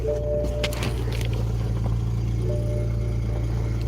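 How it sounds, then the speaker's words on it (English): A BMW with fire damage idles just after starting, a steady low engine rumble filling the space with a constant drone and a few faint clicks and rattles on top. "All right, car's on."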